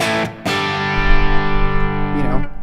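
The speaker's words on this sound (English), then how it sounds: "So I have a basic kind of chunky guitar tone." A thick, distorted electric guitar rings out in a sustained chord after two short chugs, loud and close, then fades with a slight slide.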